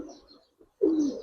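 A red-geared pigeon, a big double-striped female, coos softly: a brief murmur, a short pause, then a louder, sustained throaty coo nearby.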